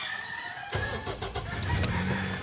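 Toyota Vios car engine cranks and catches, starting with a sudden burst and settling into a low idle, heard at close range with some background noise.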